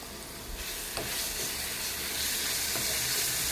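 Spices with green chilli and ginger paste fry in hot oil over a low flame, giving a close, continuous sizzle with light stirring scrapes.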